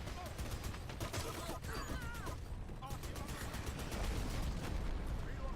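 Artillery fire in the shooter game Dirty Bomb, a dense, continuous barrage of rapid gunfire and blasts filling the scene, loud and close, with voices talking partly underneath.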